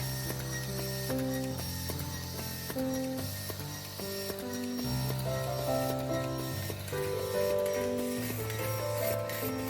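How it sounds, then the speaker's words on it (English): A glass laminating machine on a tempered glass screen protector production line runs continuously with clicking, ratcheting mechanical sounds and a steady drone, while music plays in the background. "It's a laminating machine. It can laminate AB glue and glass together."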